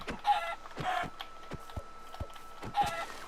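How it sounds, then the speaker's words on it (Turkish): Repeated soft chicken clucks in Minecraft, scattered irregularly over a few seconds along with small clicky sound effects, fairly quiet and without speech. "Tavuk. Hoş geldin tavuk."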